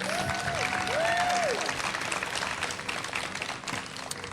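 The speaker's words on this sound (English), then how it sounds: "let's give them a round of applause and thank them" An audience claps at an outdoor community dedication ceremony, a steady wash of applause from a moderate crowd, with a faint whistle near the start and no talk.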